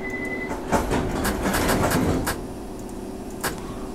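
In London Underground Simulator, train doors slide shut with a burst of electronic hissing and clunks after a short steady beep, then a quieter mechanical thud near the end.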